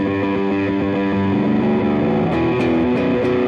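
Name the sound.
bass guitar through distortion pedal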